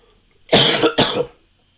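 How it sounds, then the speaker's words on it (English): Two quick, sharp coughs close to the microphone, back to back, with silence before and after. "Here comes that cough."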